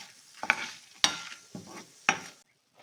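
Coriander and fenugreek seeds dry-roasting in a pan over a medium flame, stirred in four sharp scraping bursts separated by short pauses, fairly faint and close, ending in quiet.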